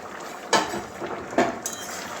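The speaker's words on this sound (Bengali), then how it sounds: "বন্ধুরা এবারে ঢাকনাটা খুলে নিচ্ছি দেখছি কতটা কী হলো" A metal lid lifted off a pot of cooked chana dal, two short clanks of metal on metal about a second apart followed by a faint clink, close and fairly quiet.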